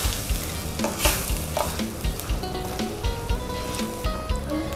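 Pork stir-fries for Thai panang curry, with a loud, close sizzle and the rhythmic scrape and clatter of a spatula stirring against the pan.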